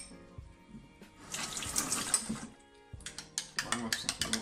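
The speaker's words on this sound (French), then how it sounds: "Hop, je remplis le verre." Water running from a tap into a drinking glass, a steady close pour that quiets briefly and then gives way to rapid rhythmic splashing and clinking, with a person talking alongside.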